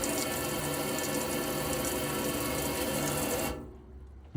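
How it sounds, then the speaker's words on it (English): Hot water runs steadily from a tap in a Burstner Delphin T700 motorhome, a continuous broadband rush that cuts off abruptly near the end, leaving quiet. "If I pull the hot water through that tap and water comes through it like it just has there, the boiler is full"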